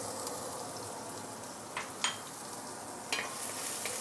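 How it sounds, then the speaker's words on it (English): Sliced shallots frying in hot oil, a faint steady sizzle with a few soft stirring clicks and scrapes, no voices. "Once the oil is heated up, you can put in the shallot"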